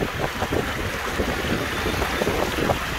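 Strong wind buffets the microphone at the top of an aqua park slide tower by the Red Sea at Makadi Bay, Hurghada, a continuous loud rushing roar with gusty swells.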